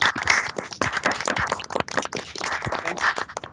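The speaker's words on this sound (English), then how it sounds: "Big round of applause to all the organizers." A round of applause for the organizers of a 2020 virtual Onam meet and greet: dense, steady clapping from many hands keeps going loud and unbroken throughout.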